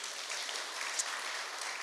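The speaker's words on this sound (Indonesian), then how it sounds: "Yang percaya boleh tepuk tangan buat Tuhan." Church congregation clapping for God during a Sunday service, a steady, fairly quiet wash of applause lasting about two seconds with no voices over it.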